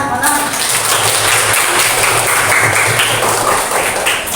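Classroom applause for student group 4 during an Islamic ethics lesson, a steady dense clapping that fills the whole stretch at close range with faint voices mixed underneath.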